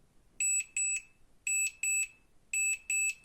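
A Xenon smart tracker tag emits bright, high electronic alert beeps in quick pairs, repeating three times with short gaps, clear against a quiet background.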